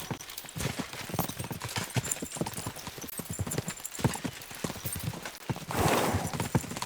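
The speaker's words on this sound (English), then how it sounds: "We should spur the horses on." Steady clip-clop of horses' hooves at a brisk trot in Kingdom Come: Deliverance II, continuous and fairly close, with a faint whinny and some rushing noise near the end.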